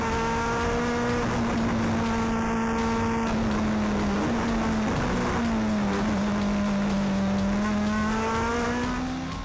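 Onboard a Ford Fiesta rally car on a Barbados rally stage, the engine drones loudly and continuously, rising and falling in pitch through gear changes and revs, with road and tire noise underneath.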